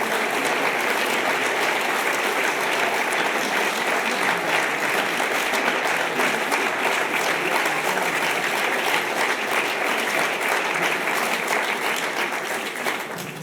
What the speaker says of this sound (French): Donc je vous demande de bien vouloir les applaudir